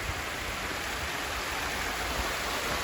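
Water in a Central Park waterfall cascading down in rivulets, a loud, steady rushing roar that fills the whole stretch without pause, close to the listener and with no voices.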